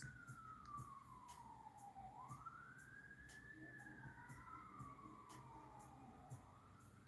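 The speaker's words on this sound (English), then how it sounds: "There's more sirens." Emergency vehicle sirens wail in the distance, one rising and falling tone sweeping slowly with a second siren joining partway through, steady and faint over low background hum.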